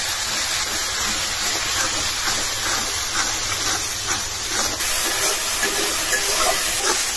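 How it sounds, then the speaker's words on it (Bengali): A spice paste of ginger-garlic paste, turmeric, chili and other ground spices frying in a pan with a splash of water, giving a loud, steady hiss and sizzle close by that continues unbroken throughout. "মশলাটা অনেক ভালো করে কষাই দিচ্ছি।"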